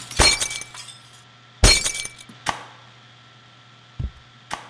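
Glass shatters in the video game Happy Wheels, two loud bursts of breaking glass with shards tinkling after each, then smaller clinks and crashes later, with no talk.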